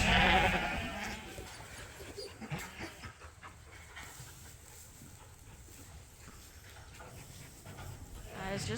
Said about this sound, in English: Were they nice sheep?